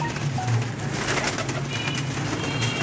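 Teddy pigeons in a loft give low, soft coos, a couple of them standing out clearly against a busy, steady background of noise and faint chatter from the birds.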